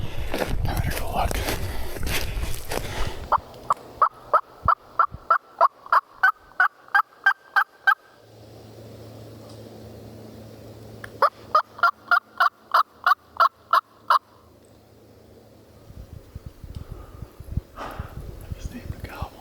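A wild turkey gobbler in a burned Florida forest answers in two bursts of rapid, clucking calls, close and loud, between stretches of quiet rustle and whispered talk.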